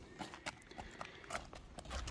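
A horse walking, its hooves clip-clopping in a steady, fairly quiet rhythm of several distinct hits at close range, with no speech.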